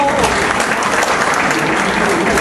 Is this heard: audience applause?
yes